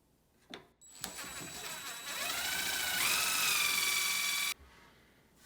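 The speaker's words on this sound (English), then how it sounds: "it just drills in a hole at a perfect angle right there" A drill bores an angled pocket hole through a jig into wood for a DIY floating shelf, a steady high whine that rises in pitch, runs loud and close for several seconds, then cuts off abruptly.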